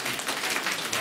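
Applause for a costumed Snowflake at a school Christmas Eve gathering, a dense, steady patter of many hands clapping close by for about a second.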